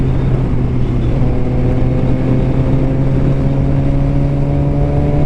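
A motorcycle without a title rides along a road with a loud, steady engine drone and slowly shifting tones, close and constant throughout with no talk over it.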